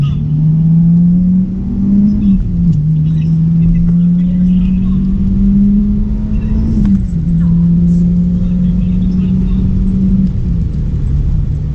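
A tuned, salvaged Audi A3 2.0 TDI accelerates hard while racing a Civic Type R. The loud, steady diesel engine drone climbs through the gears, dipping briefly at each shift, and people talk over it in the cabin.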